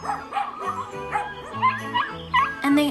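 A voice imitates a big red dog with a rhythmic spoken bow-wow, a few close, clear vocal barks in the middle of a read-aloud farm story, framed by steady narration and a brief musical backing.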